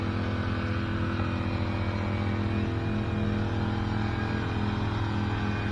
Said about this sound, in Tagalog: Nagka-grass cutter pa.